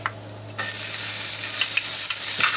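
Onion dropped into a hot pan to start a sauce for Vizcaina-style cod: a couple of faint clicks, then a sudden loud hissing sizzle that holds steady, with a light scrape near the end.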